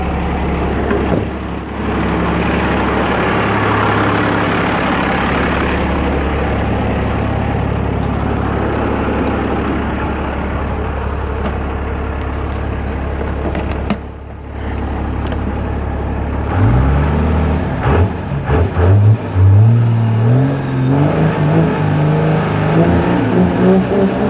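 A 12-valve diesel engine idles with a low, steady rumble on a cold start, dips briefly, then revs hard toward 4000 RPM, its pitch climbing in repeated rising surges, loud and close.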